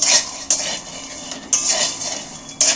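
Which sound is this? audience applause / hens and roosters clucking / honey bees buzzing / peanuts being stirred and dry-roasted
peanuts being stirred and dry-roasted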